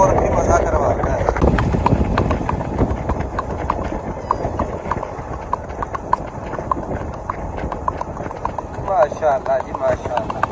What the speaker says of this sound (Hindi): घोड़ी के पाँव की ठक ठक का साउंड सुने